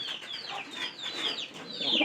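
Pigeons, a pair among a sick flock, make soft fluttering calls and short throaty coos in quick succession, close by and fairly quiet, with no voices.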